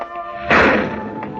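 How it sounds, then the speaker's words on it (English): Distant thunder rumble as a sound effect in an old-time radio detective drama, a soft broadband roll swelling at mid-clip, then slowly fading under a sustained tonal music bed with a faint second rumble near the end. "the sound you hear is the far-off thunder made of heat and air currents and stratosphere."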